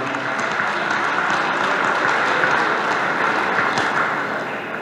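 Applause from an audience at a sports ball in Mezőtúr, steady and sustained dense clapping throughout, fairly loud and close.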